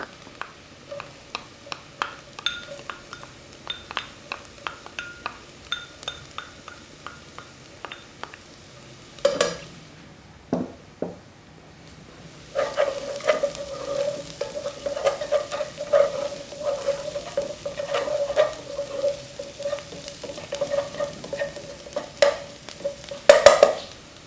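Ginger and garlic go into liver already frying in a pan, bringing soft sizzling and repeated clinks of a utensil stirring against the pan, with a brief quiet gap before the sizzle swells up again.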